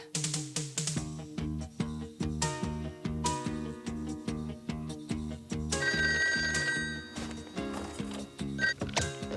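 A telephone rings in repeated bursts, a bright electronic ring pattern recurring steadily and loudly close by, with no voices over it.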